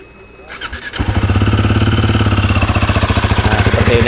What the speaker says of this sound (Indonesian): Coba kita dengerin suaranya ya dari Himalayan 450 terbaru ini.